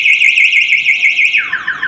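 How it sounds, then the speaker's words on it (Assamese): Anti-theft alarm on an electric scooter sounding loud and close, a rapid repeating electronic warble that switches to a falling chirp pattern near the end, with no talk. "এণ্টি থেফ্ট এলাৰ্মো আছে।"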